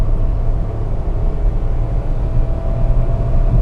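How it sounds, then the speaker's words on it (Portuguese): Inside a 2023 Renault Kwid, the three-cylinder engine revs hard under acceleration, giving a steady low droning rumble with some cabin resonance and no one speaking. "Se eu puxar contagiros aqui, acelerar bem, você vai escutar bem o 3 cilindros."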